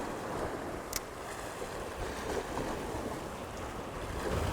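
Sea waves wash against a rocky shore, a steady surf with wind buffeting the microphone.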